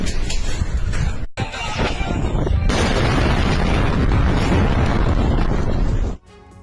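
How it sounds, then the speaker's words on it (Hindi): A loud, sustained rumbling explosion near Sanaa airport with heavy low roar and crackling debris noise, briefly cut off then continuing for several seconds before ending abruptly. "सना हवाई अड्डे के पास भीषण धमाका हुआ।"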